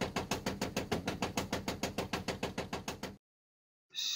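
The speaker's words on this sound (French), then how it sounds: "Le bruit que vous entendez est dû à un secteur denté usé." A worn toothed sector in a Renault Twingo's electric window regulator gives a fast, even series of loud mechanical clicks for about three seconds, then falls silent before a short final burst.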